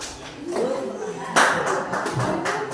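A classroom group gets a short burst of hand clapping from students after presenting, with brisk overlapping claps and voices mixed in throughout.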